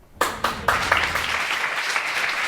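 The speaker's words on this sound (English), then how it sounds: "There they go clapping again" A courtroom audience breaks into applause, a few sharp opening claps quickly merging into a dense, steady round of clapping from a small crowd.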